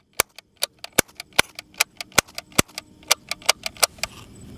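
A Diwali toy cap gun fires a fast, irregular string of about twenty sharp, crisp snaps. The bright, close cracks are separated by tiny gaps and fade into quiet at the end.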